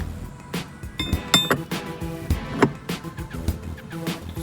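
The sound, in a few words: removing an AC valve with a wrench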